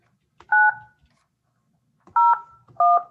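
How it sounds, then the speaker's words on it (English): Telephone keypad DTMF tones on a correctional facility's automated phone line: one short two-tone beep, a pause of over a second, then two more quick beeps, clear and alone. "Please dial the 7-digit phone number"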